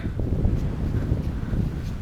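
Low, rumbling wind from a near-storm buffets the microphone continuously on a hike around Bad Bergzabern, a gusty roar with a faint rustle on top.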